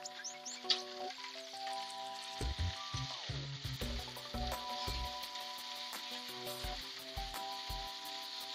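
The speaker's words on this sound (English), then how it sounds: "Cabbage is softened. Pasta's in there, sizzling." Pasta and softened cabbage sizzle steadily in a frying pan, a continuous close hiss broken by scraping stirs and the clatter of a utensil against the pan.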